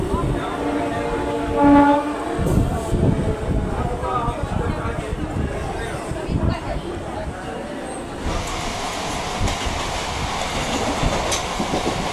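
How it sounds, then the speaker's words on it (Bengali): A local train pulls out of Liluah station, a horn sounding near the start over rumbling wheels and rattling carriages that build into steady rolling clatter, with a voice talking briefly. "লিলুয়া স্টেশন থেকে আমাদের ট্রেন ছাড়লো"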